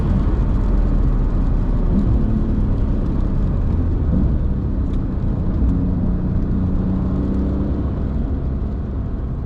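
A Porsche race car lapping a track, heard as a continuous loud engine drone with slight rises and falls in pitch as it accelerates and brakes through corners, no voices.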